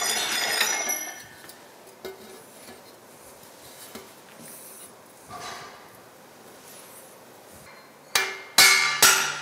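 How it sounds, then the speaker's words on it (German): A hammer presses rivets into the handle of a hand-forged iron pan, giving a few faint scattered taps and then a burst of sharper, louder metallic blows near the end. "Die Nieten werden mit dem Hammer in die Vertiefung gedrückt."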